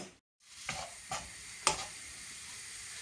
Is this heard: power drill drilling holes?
no